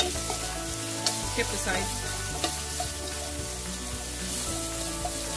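Beef sautéing in a stir-fry pan gives a steady, close frying sizzle with occasional stirring scrapes, while a voice speaks briefly over it.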